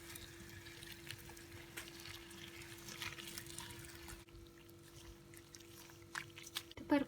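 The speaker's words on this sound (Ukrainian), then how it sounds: "тепер потрібно залити її на 3 хвилини окропом" Boiling water is poured over about 200 grams of washed fresh nettles in a home kitchen, making a faint, continuous trickling splash with small clinks near the end.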